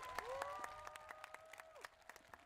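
Scattered, fairly faint clapping from a crowd honoring Special Olympics athletes at North High Saxon Stadium in Torrance, with sharp individual claps over a sustained whistling tone.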